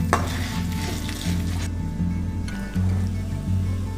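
Black pepper and spices dry-roasting in a pan for curry leaf powder, stirred steadily with a continuous crackling sizzle and a low steady hum underneath, with no voices.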